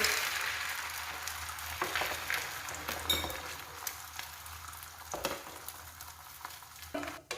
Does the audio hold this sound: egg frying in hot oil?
yes